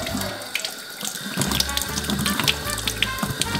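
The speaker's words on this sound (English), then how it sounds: "So we're gonna start by washing the egg off." Running tap water splashes steadily into a sink while a small chicken egg is rinsed under it, the flow loud and close with irregular splattering bursts.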